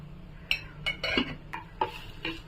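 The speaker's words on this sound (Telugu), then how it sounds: "మొత్తం ఉప్పు పసుపు కారం అన్నీ దీనికి పట్టేటట్టు కలుపుకోవాలి" Fried carrot tossed with salt, turmeric and chilli powder is stirred in a pan, giving a handful of sharp metallic clinks and scrapes of spoon against metal at an irregular pace, close up.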